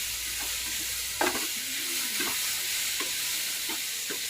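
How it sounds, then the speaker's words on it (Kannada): Tomatoes fry in hot oil with a constant, even sizzle, while a spoon stirs and scrapes the pan in a few scattered strokes. No voices are heard. "ಅದಕ್ಕೊಂದೆರಡು ಟೊಮೊಟೊ ಹಾಕಿ ಫ್ರೈ ಮಾಡಬೇಕು."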